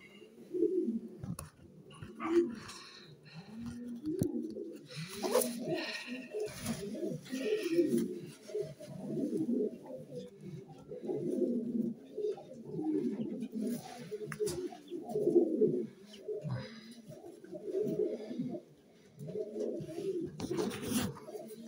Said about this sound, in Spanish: La paloma ceniza, de color cenizo.